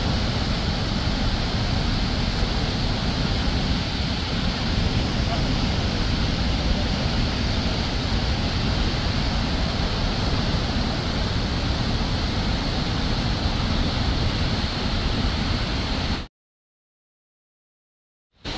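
Niagara Falls pours out a steady, dense roar of rushing water that holds unbroken and loud for about sixteen seconds, then cuts to silence, with no voices over it.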